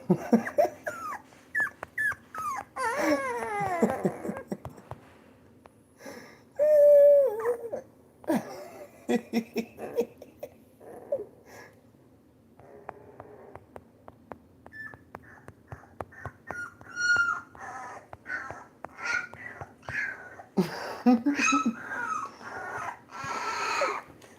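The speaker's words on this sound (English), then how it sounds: "I'm trying to raise a newborn puppy. You hear him in the background crying" Newborn puppy crying and whimpering in repeated high-pitched yips and whines, close and fairly loud, coming in bursts with short pauses across the whole stretch.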